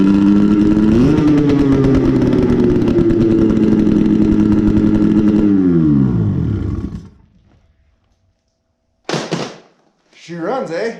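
A 2005 Polaris 900 RMK snowmobile engine, run after fuel was added to the cylinders, idles loud and close with a buzzing two-stroke drone. It rises briefly, then winds down and stops, followed by two short bursts of speech.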